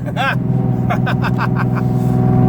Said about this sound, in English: when you go full throttle, the car does sound awesome